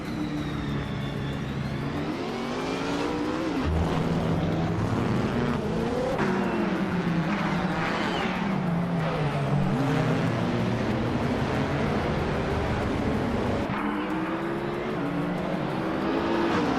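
Race cars accelerate together off the start of a race, a dense, continuous roar of mid-pitched engines with rising revs and overlapping passes, loud and sustained throughout with no talk.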